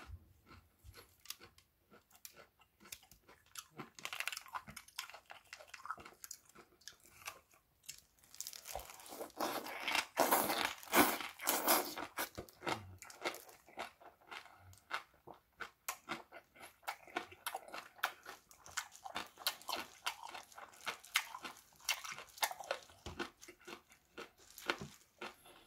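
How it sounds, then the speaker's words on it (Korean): Green onion kimchi sprinkled with parmesan being eaten up close, with soft irregular crunches, chewing and crinkly sounds that build to a louder burst of bites midway and then continue in scattered bursts. "파마산을 뿌려 먹어보겠습니다."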